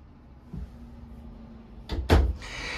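An RV bathroom door in a 2023 Surveyor Legend 202RBLE camper swings shut, giving a soft knock followed by a louder double bump and short rattle near the end, close by in a quiet room.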